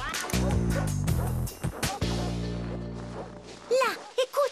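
A dog yips and whimpers in short high bursts near the end, following a stretch of sustained musical tones, with a voice briefly heard.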